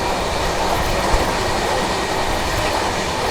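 Hussain Sagar Superfast Express, train 12702 from Hyderabad to CSMT Mumbai, running: a loud, steady roar of wheels and carriage rumble with faint clickety-clack, heard from close by with no voices.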